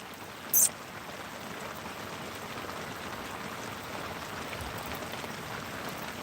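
Rain pours down outdoors where a sheepdog stands near its flock, an even, continuous patter and hiss at moderate volume, broken once early by a brief sharp click.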